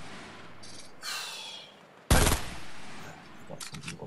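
Gunfire in the Fortnite video game, with scattered shot bursts and one loud blast in the middle, followed by a quick rattle of rapid shots near the end.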